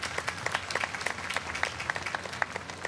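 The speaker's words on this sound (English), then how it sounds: "Round of applause for Teresa Hillis." A pageant audience at a tomato festival applauds, a steady wash of many hands clapping with bright individual claps standing out throughout the short burst.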